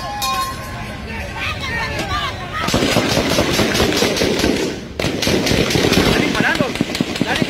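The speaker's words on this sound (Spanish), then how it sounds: "Están disparando." Sustained bursts of automatic gunfire and scattered gunshots ring out during a shootout, loud and continuous for the whole stretch, with shouting voices and commotion under the firing.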